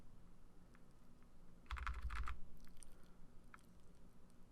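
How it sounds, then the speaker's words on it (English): Computer keyboard keys tapped while editing in Photoshop Elements, a few quiet clicks followed by a brief cluster of quick taps, close and faint in a quiet room. "I'm just tapping the up arrow like that"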